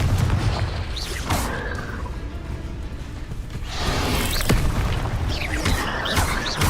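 Confringo blasting spell explosions in the video game Hogwarts Legacy, with repeated booming blasts and crashing impacts over a dense, busy game mix of whooshes and clatter.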